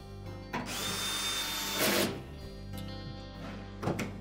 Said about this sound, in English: then install the three screws across the back